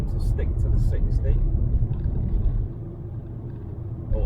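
Steady road traffic rumble on a 60 mph limit road, with vehicles passing close by and continuous engine and tyre noise that eases slightly toward the end, heard without speech.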